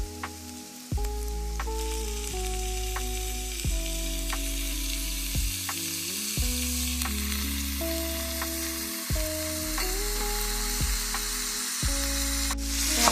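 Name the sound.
ground beef sizzling as it is added to the pan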